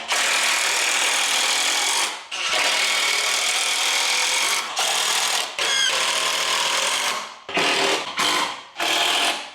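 A power tool works on wooden mini ramp pieces in a garage, giving loud, close bursts of harsh whirring noise: several runs of a second or more, broken by short pauses.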